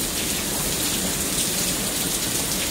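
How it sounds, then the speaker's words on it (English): Steady, dense rain pours during a thunderstorm in Lufkin, Texas, a continuous broadband hiss of drops hitting surfaces, loud and unbroken with no talking. "The storm is still going strong."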